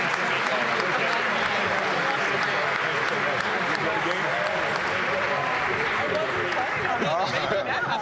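Steady round of applause from an indoor audience at the Capital One Arena announcement in Washington D.C., applauding as Washington Wizards players exit, with some voices mixed in throughout.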